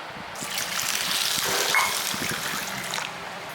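Water pours over chana dal set to soak for a kandarappam recipe, giving a steady, splashing gush for a few seconds that rises and then tapers off, with no voices.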